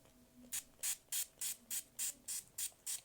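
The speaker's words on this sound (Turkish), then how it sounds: "10-20 kere falan sıkıyorum." A hair product spray bottle is pumped in quick, evenly spaced bursts, about nine sharp hissing sprays close up with short gaps between them.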